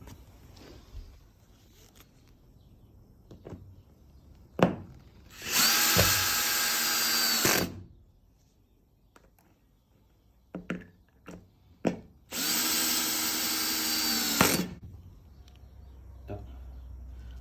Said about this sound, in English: I'm going to pop a couple of screws in it